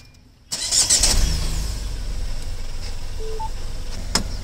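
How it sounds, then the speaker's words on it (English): A Tata Altroz DCA, a dual-clutch automatic car, has its engine cranked and started close by. It catches abruptly and settles into a steady, loud idle hum, with one brief click near the end and no talking. "And starting the engine."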